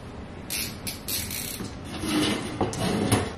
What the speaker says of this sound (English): it's a ratchet screwdriver